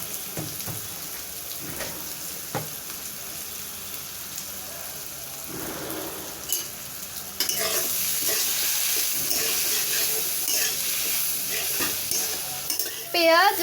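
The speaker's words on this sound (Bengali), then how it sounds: "এখন নুন হলুদ দিয়ে আলুটাকে একটু ভেজে নেব।" Potatoes frying with salt and turmeric in a pan, a steady sizzle with stirring scrapes that grows louder and denser partway through, with no talk.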